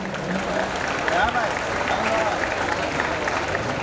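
Audience at a Jain diksha ceremony claps together in a steady, sustained round of applause, broad and fairly loud, with faint murmur underneath.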